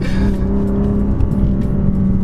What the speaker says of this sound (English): As you upshift, the exhaust makes a little, like most cars do, but for some reason this just sounds different